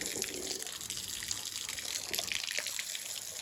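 Water splashes and pours steadily onto floor mats, a close, continuous hissing spatter at low volume.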